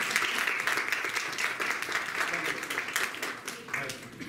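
Conference audience applauds after a lecture introduction, a sustained round of clapping from many hands with slight swells, voices faintly mixed in.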